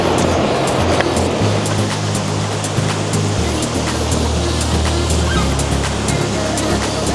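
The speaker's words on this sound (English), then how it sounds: "it is raining so hard right now" Heavy rain pours steadily in the countryside, a dense, continuous roar of water with a low rumbling undertone and scattered sharp drops, loud and close throughout.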